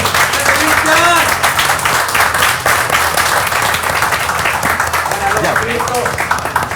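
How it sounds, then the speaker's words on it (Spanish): A crowd applauds loudly and continuously in a metal bar, dense clapping filling the whole stretch while voices shout over it. "Un aplauso"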